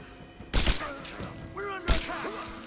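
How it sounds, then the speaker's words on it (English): SMG gunfire in Rise of the Tomb Raider comes as two loud, sharp bursts about a second and a half apart, with brief tonal game sounds and a voice briefly in between. "let's just mow him down with SMG"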